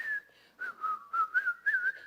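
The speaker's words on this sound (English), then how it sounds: "And we whistled." Several people whistling together in a church service, a bright wavering melodic line in short phrases with small gaps, fairly close and clear, no speech.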